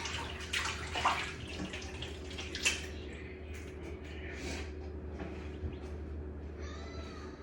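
Hands rinsed under a running kitchen tap while cooking chicken drumstick adobo, a steady close rush of water with splashes and a faint electrical hum underneath.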